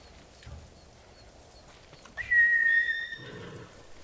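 Horse in the samurai game Ghost of Tsushima gives a single short, high, wavering neigh near the end, after a quiet stretch with faint background movement.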